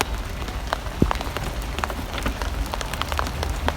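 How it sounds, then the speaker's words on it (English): Steady rain falls outdoors in a garden, a dense, even hiss of drops on surfaces with occasional sharper individual splashes, loud and continuous throughout with no voices. "Can you hear that rain?"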